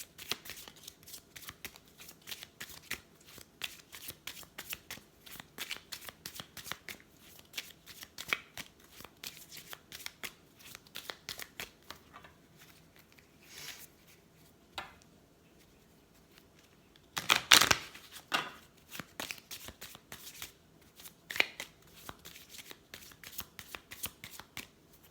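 A deck of moon oracle cards is shuffled in quick soft riffling bursts, with a louder flurry about two-thirds through, all quiet and close with no talking.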